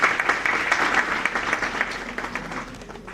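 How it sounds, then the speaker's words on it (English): Warm applause from a conference audience welcoming a lecturer at a pharmaceutical conference, a full wash of clapping that fades slightly toward the end. "Please give a round of applause"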